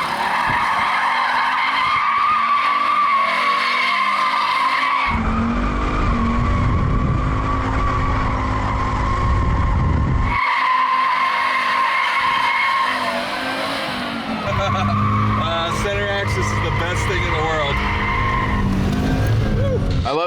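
A 1200 HP Audi RS3 doing donuts, its tires squealing and skidding in long repeated bursts over a revving engine, close and loud, with people talking nearby.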